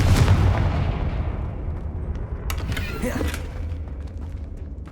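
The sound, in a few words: Confringo explosion spell blasts in Hogwarts Legacy video game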